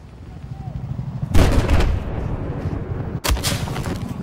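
Battlefield 4 gunfire and blasts boom through a noisy battlefield, two heavy bursts with a dense rumbling background, loud and close.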